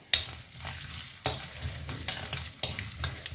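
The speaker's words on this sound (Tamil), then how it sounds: "எண்ணெய் நல்லா சுட்டுடுத்து. ஸோ அதனால் கடுகு மடமடான்னு பொரிய ஆரம்பிச்சுடுத்து." Mustard seeds crackle and pop in hot oil with urad dal and a dried red chili, sharp bursts at irregular intervals over a steady sizzle, close up.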